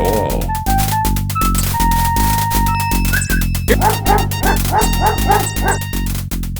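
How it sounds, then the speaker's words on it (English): An unfriendly dog in the King's Quest 5 video game barks in repeated synthesized yaps, mixed in with steady, looping game music. "The dog doesn't seem to be a friendly sort at all."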